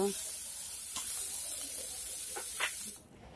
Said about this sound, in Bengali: এইগুলিকে নেড়ে চেড়ে ফ্রাই করে নেবো